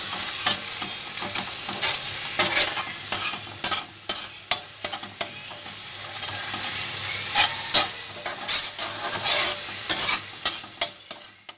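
Sliced bitter gourd roasting in a pan, with a steady close sizzle and frequent scraping stirs of a spatula in uneven bursts, no voices.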